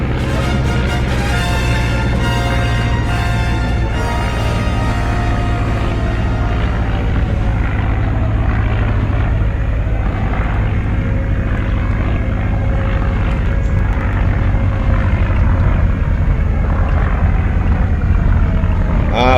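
WWI biplane engines roar in the Red Baron 3D flight game, a loud, steady droning rumble that holds throughout with a slowly shifting pitch and no talk.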